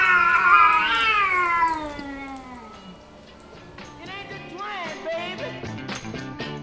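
Cats meow and wail loudly and close at night in Morocco, long drawn-out cries rising and falling, followed by a string of shorter yowls, with no talk over them.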